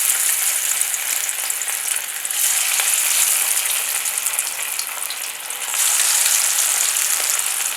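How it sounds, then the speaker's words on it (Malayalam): Beef pieces for a Kerala-style dry fry crackle and sizzle in hot oil in a pan, a dense, loud, steady hiss that swells as more pieces go in. "നമ്മുടെ ബീഫ് പീസ് ഓരോന്നായിട്ട് നമുക്ക് എടുത്തിട്ട് കൊടുക്കാം"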